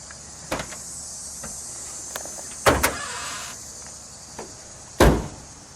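Trunk of a 1966 Ford Galaxie 500 convertible released by its automatic opener, heard as a few sharp clunks and latch clicks, with a short whirring release between them over a faint steady background hiss.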